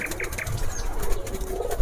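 Pigeons imported from Pakistan, a Teddy hen and a Mysore cock, coo and flap their wings nearby in a busy, continuous flurry of soft beats and murmurs.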